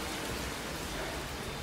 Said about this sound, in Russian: А это такой кратковременный дождик.